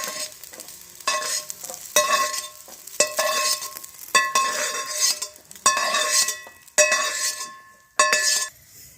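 Garlic frying in oil for a pirandai pickle while being stirred, with sizzling under repeated clinks of a spoon against the pan. The scraping strokes come in bursts about every second, loud and close.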